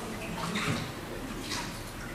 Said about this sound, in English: So wash my roller.